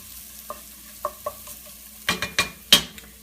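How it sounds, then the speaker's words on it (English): Quiet sizzling of onions frying in coconut oil in a pan, punctuated by a handful of soft scrapes and taps as they are stirred, growing busier toward the end. "As you can see that's frying nicely in there."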